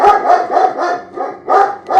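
A dog named Lobo barks repeatedly at close range, with several sharp, loud barks in uneven bursts and a brief lull in the middle.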